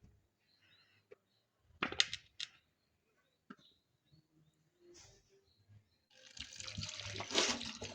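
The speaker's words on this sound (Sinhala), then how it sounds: "ඉතින් ඒකට අපි ගානට වතුර දා ගන්න ඕනේ." Water from a tap splashes into a pot holding cut potato pieces, starting with a few sharp isolated splashes and drips, then building into a steadier, louder rushing pour near the end.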